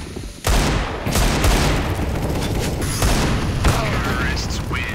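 Dense, loud gunfire from the CS:GO video game, with rapid bursts and booming shots running almost the whole way through, along with other in-game noises.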